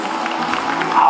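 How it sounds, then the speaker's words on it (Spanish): Carnival audience applauding for the second princess at a senior citizens' carnival coronation in Misantla, a steady dense wash of clapping and crowd noise throughout. "Fuerte el aplauso para la princesa segunda."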